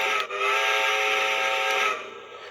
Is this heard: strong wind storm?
no